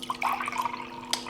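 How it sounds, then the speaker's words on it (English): Pickle lemonade poured into a glass, a brief trickling, splashing liquid stream with bright gurgles and a small clink near the end, close and quiet without speech. "Now we're going to go ahead and pour our"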